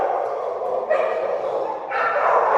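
A dog whines and yips in short, high-pitched bursts, two louder cries standing out against a faint background.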